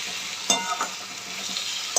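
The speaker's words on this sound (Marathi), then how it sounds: "हे बघा असं व्यवस्थित मिक्स करायचं" Thin potato slices with spices being stirred in a hot pan, a steady close sizzle with a few distinct scraping taps of the spoon against the pan.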